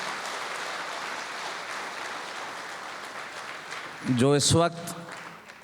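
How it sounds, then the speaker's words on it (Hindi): A crowd gives sustained applause for the country's armed forces, a dense wash of clapping that continues under a brief spoken phrase near the end. "मैं चाहता हूँ एक बार पुरजोर तालियां हमारे देश की सेनाओं के लिए बजाई जाए"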